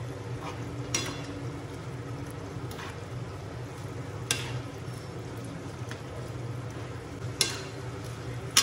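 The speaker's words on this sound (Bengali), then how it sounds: "পোস্তটা এখন আমি ভালোভাবে মিশিয়ে নেব" A spoon stirs ground poppy seed paste into potatoes with spring onion greens in a pan, a faint steady sizzle under soft scraping strokes and occasional light clinks, near and without talk.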